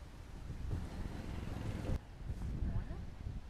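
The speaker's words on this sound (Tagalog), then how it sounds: "Ang lakas ng hangin" Strong wind gusting outdoors by the sea, a steady rumbling roar buffeting the microphone near and loud throughout, with a sharp burst around midway and faint talk mixed underneath.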